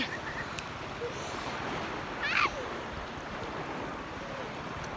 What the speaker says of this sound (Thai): ขึ้นซัดน้ำทะเล